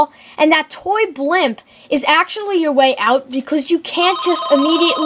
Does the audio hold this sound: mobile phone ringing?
yes